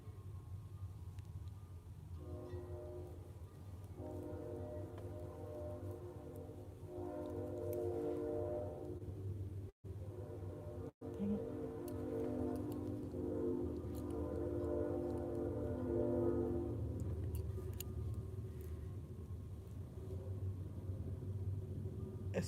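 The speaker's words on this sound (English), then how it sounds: "It's a train. Can you hear it?" A northbound train rolls past at a distance, a steady low rumble swelling with a sustained horn blast that sounds in several long tones, fairly faint against quiet room ambience.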